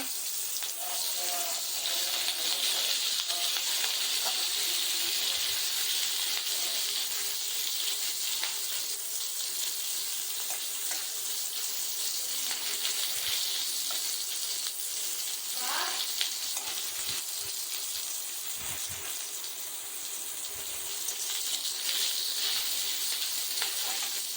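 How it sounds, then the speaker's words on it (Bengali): Onion fries in hot oil in a pan already seasoned with five-spice seeds and a dried red chilli, a loud, continuous, hissing sizzle that holds steady throughout with occasional faint stirring scrapes. "ভাজা হয়ে গেলে এবার পেঁয়াজটা দিয়ে দেবো পোস্তের জন্য"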